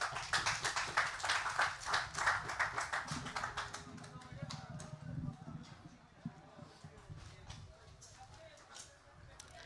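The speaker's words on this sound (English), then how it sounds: "Give her a round of applause, please." Clapping from an audience at a constituency town hall meeting, dense and fairly loud for the first few seconds, then thinning into scattered claps as a voice begins to speak.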